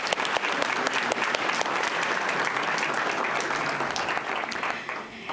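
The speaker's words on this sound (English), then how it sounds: "A round of applause for John." Steady, full applause from a crowd at a school district board meeting honors a student athlete, with dense continuous clapping that fades slightly at the end.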